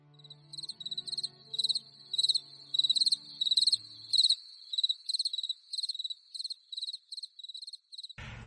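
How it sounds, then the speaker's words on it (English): Crickets chirp in quick pulsing bursts, clear and steady, with a faint low hum beneath that fades partway through. "those crickets chirping this week"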